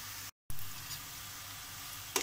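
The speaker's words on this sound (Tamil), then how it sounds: "எண்ணெயோட சலசலப்பு அடங்கினோடனே நம்ம இதை எடுத்துடலாம்" Pepper karasev frying in hot oil makes a steady, soft sizzle with faint crackles and a brief stir near the end.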